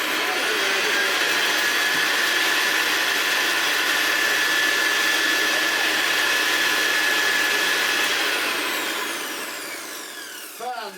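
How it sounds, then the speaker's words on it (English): A restored Hoover Senior 6525c upright vacuum cleaner runs with its hood off, a loud steady whirring roar that holds for most of the time before winding down near the end, with a brief clatter at the close. "we may as well turn it on with the hood off now while we're at this stage, and then I'll put it back on and I'll do some vacuuming"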